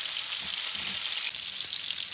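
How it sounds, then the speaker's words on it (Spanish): Tomato, garlic and chiles, including chile de árbol, fry in a pan for a diabla sauce meant for shrimp, giving a steady, dense hiss of sizzling oil that stays even and fairly loud throughout. "Vamos a esperar que se sofría un poquito."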